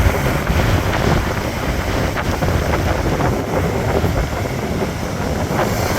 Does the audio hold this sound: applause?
no